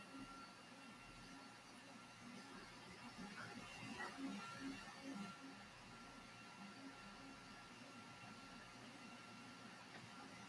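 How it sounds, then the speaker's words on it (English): A 3D printer running steadily nearby, a continuous whirring hum with faint shifting motor tones, low in level and unbroken throughout. "that's my 3D printer"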